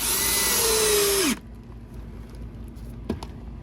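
A Ridgid power drill drives a screw with a loud, steady whine that slows and winds down, followed by a short quiet stretch and a couple of brief clicks.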